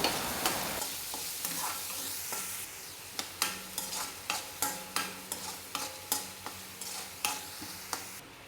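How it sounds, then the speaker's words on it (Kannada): Finely chopped ginger and shallots frying in a pan for ragi vegetable soup: a soft steady sizzle with regular sharp ticks of a spoon scraping and stirring, close and alone. "ಸಣ್ಣದಾಗಿ ಹೆಚ್ಚಿಟ್ಟ ಸಣ್ಣ ಈರುಳ್ಳಿಯನ್ನು ಕೂಡ ಸೇರಿಸಿಕೊಂಡು ಸ್ವಲ್ಪ ಫ್ರೈ ಮಾಡಿ"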